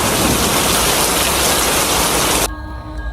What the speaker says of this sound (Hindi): बहुत तेज़ तूफ़ानी बारिशें हो रही थी।